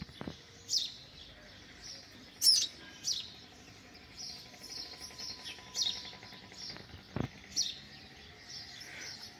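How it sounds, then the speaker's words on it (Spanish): Fallen house sparrow chicks on the ground give repeated short, high chirps in irregular bursts, close and fairly quiet, with a couple of sharp knocks and faint background noise between calls. "Los gorriones que se han caído del tejado."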